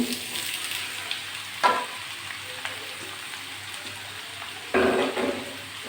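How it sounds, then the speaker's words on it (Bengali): Chopped bottle gourd frying with garlic already browned in the pan, a steady close sizzle with stirring scrapes and a louder burst as more goes in near the end. "এক মুঠো রসুন রসুনটা একটু ভেজে নিয়েছি কুচিয়ে রাখা লাউগুলো দিয়ে দিচ্ছি"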